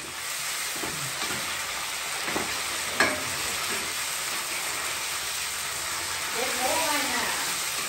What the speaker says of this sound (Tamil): இப்போ வந்து தக்காளியும் போட்டு வதக்க போகிறோம்.